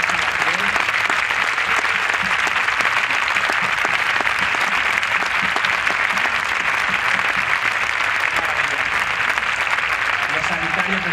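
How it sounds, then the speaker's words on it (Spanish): Dense, sustained audience applause for healthcare workers at a stand-up comedy festival during town festivities in Leganés, loud and continuous clapping from a large crowd. "me parece un momento muy bonito volver a aplaudirles hoy. A todos los sanitarios que están aquí."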